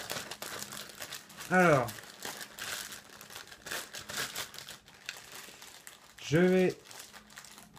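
Close, crisp crinkling and tearing of packaging around a Neewer NW-700 microphone mount comes in irregular bursts under someone speaking French, his voice rising clearly twice over the rustle.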